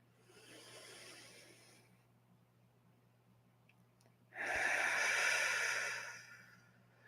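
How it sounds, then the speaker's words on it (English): Two slow, deep breaths, each a long airy inhale and a longer, louder breathy exhale, close and alone in a quiet room with a steady low hum. "take a few long breaths, a deep inhale and a long exhale"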